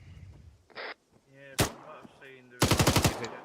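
GPMG machine gun in the video game Arma 3 fires one rapid, loud burst of about eight shots near the end, after a single sharp shot and some quieter game sounds, with faint voices nearby.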